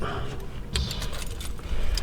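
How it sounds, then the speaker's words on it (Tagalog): Keys jangle in brief metallic bursts inside a vehicle, loud and close, over a low engine rumble, with a short spoken word. "Susi."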